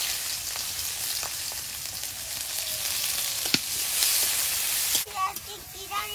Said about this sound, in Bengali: তেলের মধ্যে দিয়ে দেবো কালো জিরে, রসুন কুচি,